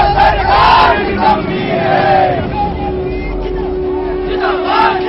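A large angry crowd protests in the streets over rising prices, a loud continuous roar of shouting voices with rising surges of chanting close by.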